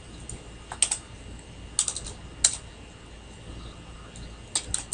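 Light typing on a computer keyboard, sparse key clicks in short clusters, quiet and close with no voice over it.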